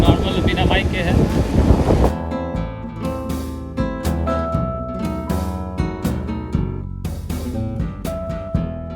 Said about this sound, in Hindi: हवा इतनी तेज़ चल रही है